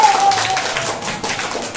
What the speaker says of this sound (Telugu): క్లాప్స్ కొట్టండి రా నాయుడు